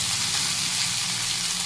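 Onions and curry leaves sautéing in hot oil, a steady close sizzle with a broad hiss and no talking.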